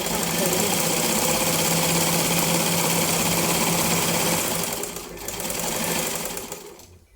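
A sewing machine stitches the lining of a blouse with a steady, loud, continuous whirr, slowing briefly near the end before fading out.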